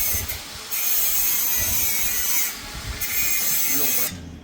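Wheel nuts on a Kubota tractor's raised front wheel are tightened with a tool, giving repeated bursts of harsh metallic ratcheting and grinding, close and fairly loud, separated by brief pauses.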